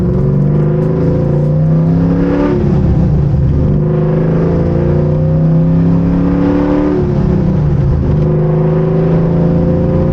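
An LS3 V8 in a 1969 Camaro on 20-by-13-inch wheels with a new rear end setup, driving and accelerating. The engine drones loud and close, pitch rising and falling through revs, and runs steadily throughout.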